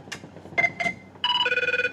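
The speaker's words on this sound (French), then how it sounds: "Tu la reconnais pas cette sonnerie?" An electronic telephone ringtone like the one from the TV series 24: a couple of short tonal chirps, then a sustained warbling ring that pulses rapidly, heard clearly with no talk over it.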